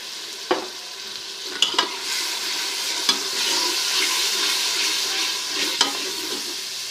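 Masala for a kofta chana curry is stirred and fried in a pan for about two minutes. A continuous close sizzle runs throughout, punctuated by sharp clicks of a spoon against the pan.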